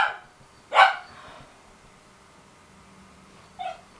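A puppy lets out a sharp, loud bark, a short pause follows, then a second, fainter yip comes near the end, with quiet room tone between them.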